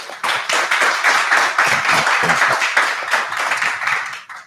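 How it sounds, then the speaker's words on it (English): Audience applause at a club talk welcoming Waze co-founder Uri Levine, a lively, dense round of clapping that holds steady for a few seconds before tapering off. "So may I request all of you to give a big round of applause and welcome Yuri."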